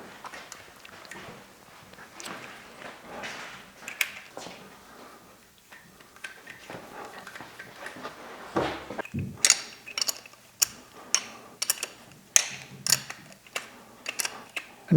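Cylinder nuts being tightened onto the big studs of a YZ 300X two-stroke engine during a big bore kit install, giving a run of sharp metallic clicks and ratcheting taps that grow louder and more rapid in the second half.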